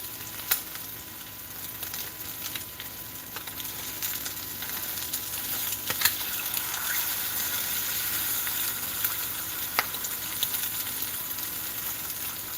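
Eggs frying in a hot pan, a steady crackling sizzle with scattered sharp pops close by, moderately quiet and without voices.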